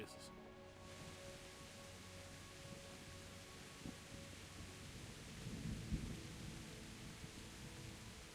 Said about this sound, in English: At least the rain will put out the fire.